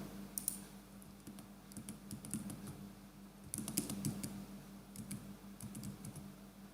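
Keys on a computer keyboard are pressed in quick, quiet clicks and taps, with Alt and Tab struck repeatedly in small bursts, close up and alone with no talking.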